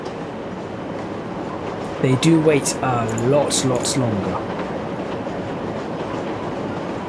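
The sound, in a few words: trains in Rail Route, from a video game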